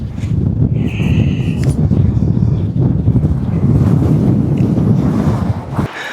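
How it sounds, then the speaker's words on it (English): Strong wind buffets the microphone on an outdoor hiking trail, a loud, continuous low roar that gusts steadily throughout and drops away abruptly near the end. "the wind is really picking up here"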